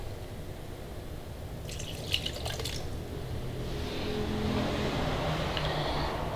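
Water trickles and drips as it is poured into a car's fuel check valve, a soft liquid splashing and dribbling that grows into a steadier pour against a quiet background, no voices.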